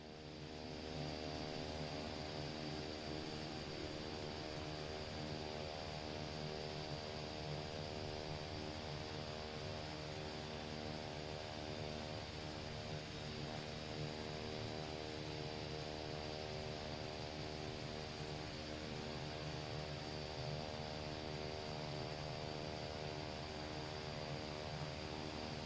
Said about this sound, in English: Love how the propellers come out of feather